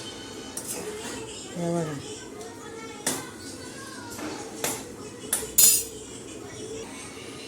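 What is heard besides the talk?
sautéing prawns in oil, spatula against pan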